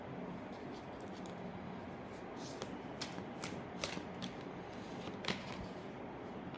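Tarot cards being shuffled, a soft continuous riffle and papery rustle with a few sharper snaps near the end, close and fairly quiet.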